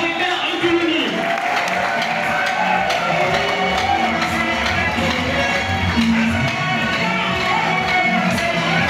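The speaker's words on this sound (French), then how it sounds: "Nous allons applaudir pour accueillir le président du parti Alternatif Citoyen," A crowd at a political party gathering applauds the party president: sustained clapping with cheers and whoops blended into a busy hall roar, voices and shouts woven through it.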